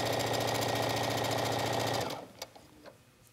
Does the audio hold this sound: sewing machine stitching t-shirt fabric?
yes